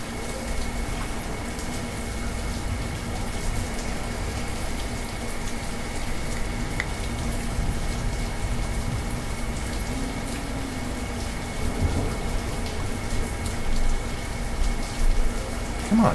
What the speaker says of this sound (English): Ooh, it's foggy, rainy.